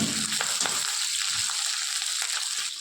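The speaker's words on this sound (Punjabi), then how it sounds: "ਆਪਾਂ ਸਬਜ਼ੀ ਨਾਲ ਚੰਗੀ ਤਰ੍ਹਾਂ ਆਪਾਂ ਤੇਲ ਦੇ ਵਿੱਚ ਮਿਰਚਾਂ ਨੂੰ ਹਲਾ ਲਾਂਗੇ" Green chillies fry in hot oil with vegetables, giving a steady, close sizzle across the clip and occasional soft scrapes as they are stirred; no one speaks.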